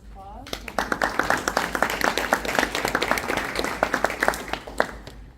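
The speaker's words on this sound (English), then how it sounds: "Just give them a round of applause." Audience applause at a presentation event, a dense burst of many hands clapping that rises quickly and holds steady and fairly loud throughout, with no voices over it.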